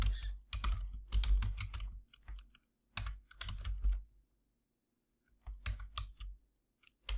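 Fingers type on a computer keyboard in bursts of quick, close clicks separated by short pauses, quiet and without talk.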